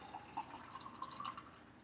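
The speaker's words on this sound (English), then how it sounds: "try to pour." Vegetable juice being poured into a glass, a short soft liquid trickle with small splashy drips, close and quiet, with no talking.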